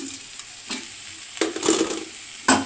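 A spoon stirring aarai keerai greens stir-fried with crushed peanuts in a pan, with close scraping strokes at an irregular rhythm over a soft sizzle, with no voices.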